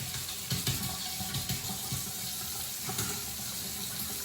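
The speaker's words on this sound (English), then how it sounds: "And I keep my water running just" Water running steadily from a bathroom sink tap, a soft continuous splashing hiss with a few slightly louder spatters, fairly quiet and without voices.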